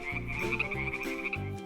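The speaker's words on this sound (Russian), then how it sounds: "Лягушка." A frog croaks in a quick run of several low, rasping pulses, close and clear with nothing else around it.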